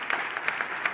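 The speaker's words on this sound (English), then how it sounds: "Yes, you can clap for him." Faint, brief applause from a forum audience, a scattering of light claps, distant and quiet for about a second.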